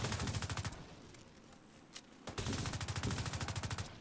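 Rapid automatic gunfire in the video game The Division 2, two fast rhythmic bursts separated by a short lull with a lone shot, close and steady.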